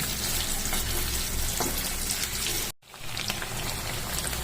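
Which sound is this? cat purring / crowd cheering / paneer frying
paneer frying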